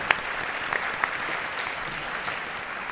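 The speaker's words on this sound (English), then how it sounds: "Let's give our sponsors a round of applause." An audience at a community talk event applauds sponsors, a steady wash of many hands clapping at moderate distance, with a few sharper individual claps standing out.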